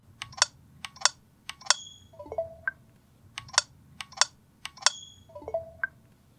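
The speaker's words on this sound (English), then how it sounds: "Then after that, if you press ZL, you instead get this clicking sound." Nintendo Switch startup easter egg clicking sound triggered by pressing ZL: a loud sequence of crisp clicks in two matching rounds, each with three sharp high clicks followed by a lower blip, repeating with a steady rhythm.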